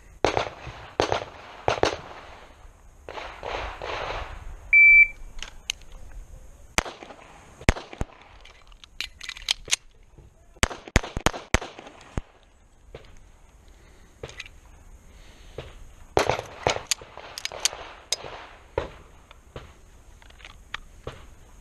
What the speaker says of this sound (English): I haven't shot a pistol in probably a month, so we'll see how this goes